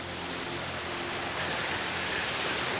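Mountain waterfall on a trail on Mount Iwaki in Japan, a steady broadband roar of falling water that swells slightly louder toward the end, with no voices.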